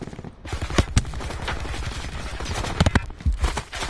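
Dense, chaotic gunfire in the Alcatraz video game mode, with sharp individual cracks and rapid bursts overlapping throughout, loud and close with some shots ringing out above the constant clatter.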